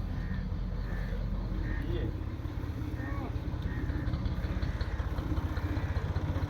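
A tractor engine idles close by with a steady low throbbing that becomes more pulsing toward the end, while people talk over it.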